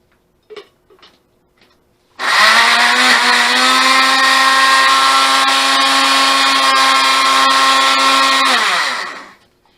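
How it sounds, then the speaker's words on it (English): A blender whirs through cucumbers and avocados for a summery avocado gazpacho: after a few brief clunks, the motor roars up into a loud, steady, high-pitched whine that holds for about seven seconds, then winds down. "I finished blending up our blend of our cucumbers and avocados"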